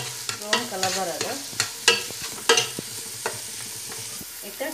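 Onions frying in oil in a non-stick pan for uruda kori sukka are stirred with repeated scraping clicks and knocks over a soft sizzle, close by.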